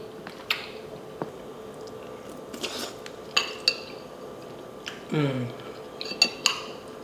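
Someone eating oxtail stew with cutlery: scattered clinks and scrapes of utensils on a dish, with soft chewing between them, close and fairly quiet, spread out with gaps.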